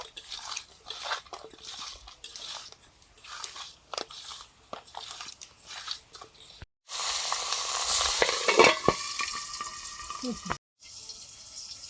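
Tangra fish coated in salt, turmeric and chili powder frying in hot oil, a loud steady sizzle bursting in after a stretch of quieter kitchen handling and scraping sounds.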